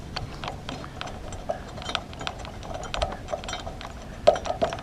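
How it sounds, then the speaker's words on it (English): Quick, faint metallic ticks and ratchet clicks come in uneven bursts as a light bar mount for a 50-inch light bar is bolted down on a Toyota FJ Cruiser, with one sharper click cluster near the end. "we'll see if that back one bolts down or not."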